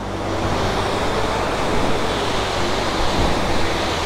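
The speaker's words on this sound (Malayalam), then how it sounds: "വെള്ളം ഒഴുകി പോകുന്ന നല്ല പതഞ്ഞ് ആയി മഞ്ഞ് കട്ട ഒഴുകി വരുന്ന കണക്ക്" Foaming water rushes at Manneera waterfall in a forest eco-tourism area, a steady dense roar of falling and flowing water that holds loud and close throughout with no voices.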